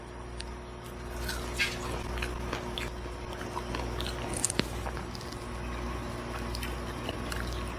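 Close, crunchy chewing of insects with soft crackles and squishes over steady low background hum, a few sharper bites standing out midway.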